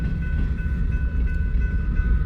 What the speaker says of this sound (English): It's just them two big motors pulling this whole train.